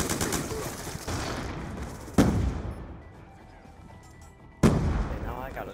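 Gunfire in Black Ops II, with sharp shots standing out at about 2.2 and 4.6 seconds over a busy, noisy multiplayer battle mix. The shots land as headshots on an enemy.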